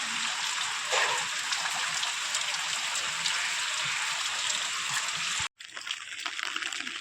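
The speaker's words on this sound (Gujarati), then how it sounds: "ધીમી ધારે વરસાદ ચાલુ છે" Soft, even patter of light rain falling continuously, with a brief dropout near the end before the rain resumes.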